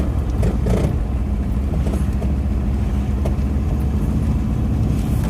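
A van engine labours steadily while climbing the steep Winnats Pass road in the Peak District, a continuous close drone with low rumble and road noise throughout, no talking.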